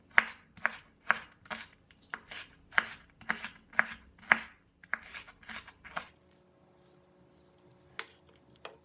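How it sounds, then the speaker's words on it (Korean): Onion being finely minced with a knife on a board, about a dozen crisp, close chops in a brisk uneven rhythm, then a pause with a couple of faint knocks. "잘게 썰어준 양파는 다시 한 번 더 다져줄게요."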